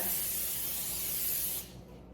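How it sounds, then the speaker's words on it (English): Cooking spray hisses steadily from a can into a 9 by 13 cake pan, one continuous close spray of about a second and a half that stops abruptly, leaving faint room tone. "you need a 9 by 13 pan, and you want to spray this because we don't want the cake to"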